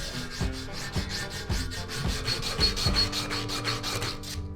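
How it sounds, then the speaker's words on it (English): Coarse-grit sandpaper wrapped around a 1945 fishing rod section, rubbed back and forth in steady rhythmic strokes about three per second, close and fairly loud with no talk. "I wrap the sandpaper around the rod and carefully sand it down"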